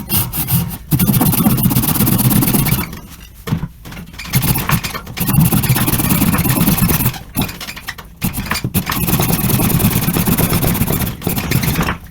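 A Wicked Tree Gear folding saw cuts through a thick tree branch with steady, loud back-and-forth rasping strokes, broken by a few brief pauses between runs of sawing.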